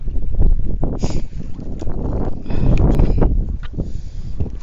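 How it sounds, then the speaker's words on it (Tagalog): Strong wind buffeting a microphone on a small fishing boat, with rumbling gusts, water slapping against the hull and rustling through the whole stretch, no voices. "Medyo malakas ang hangin dito guys"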